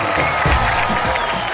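A studio audience at a Pakistani kids' live game show claps and cheers in a dense, steady burst with some shouting, filling the short moment without talk.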